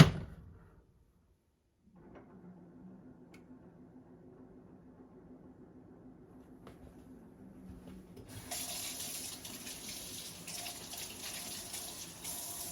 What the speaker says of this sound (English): just give that a quick rinse so I can use that again